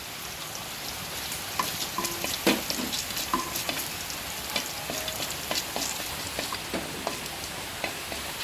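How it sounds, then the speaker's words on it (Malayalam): Whole spices, cinnamon pieces, cardamom pods, cloves and a pinch of cumin, sizzle and fry steadily in melted butter, a close, continuous crackle with scattered pops and a stir or two, no voices. "ഇതിലേക്ക് നമുക്ക് ഒരു ചെറിയ 2 കഷ്ണം പട്ട, 2 ഏലക്കായ, ഗ്രാമ്പു, ഒരു നുള്ളു നല്ല ജീരകം,"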